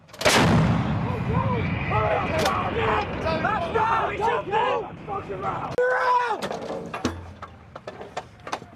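A U.S. Marine M777 towed 155mm howitzer fires during a live-fire exercise: one loud blast opens, followed by shouted commands and crew voices, with clanking breech and loading mechanisms and a second sharp report near the end.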